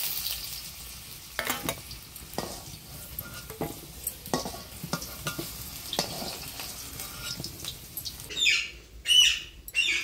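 Potatoes fry in oil in a kadhai over a village wood-fired chulha for a country chicken curry, a soft steady sizzle with intermittent stirring scrapes, and a few louder bursts and clatters near the end.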